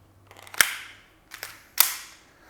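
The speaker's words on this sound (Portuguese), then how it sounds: "E dou o meu primeiro disparo ali no centro." Shots from a training gun on an advanced shooting simulator, two sharp clicky cracks about a second apart, each preceded by a faint handling rustle, heard alone in a quiet room.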